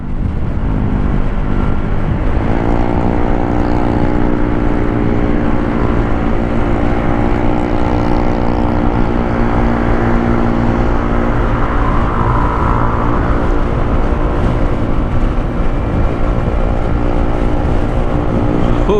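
A Yamaha Aerox Alpha scooter on standard tyres runs flat out, its engine a steady high droning whine with rising harmonics and constant wind rush throughout.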